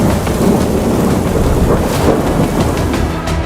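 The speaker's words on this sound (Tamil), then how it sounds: "திங்கட்கிழமை கொட்டி தீர்த்து வரும் மழை" Heavy rain pours down steadily through a Monday downpour, with deep rumbling thunder rolling underneath, loud and continuous with no pauses throughout.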